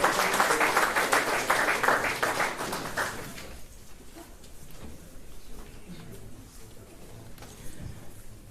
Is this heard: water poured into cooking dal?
no